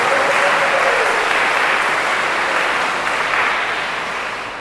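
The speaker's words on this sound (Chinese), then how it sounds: "都要俾啲掌声支持佢啊" An audience applauds at a wedding ceremony, dense sustained clapping from many hands at close range, holding steady and then tapering slightly toward the end.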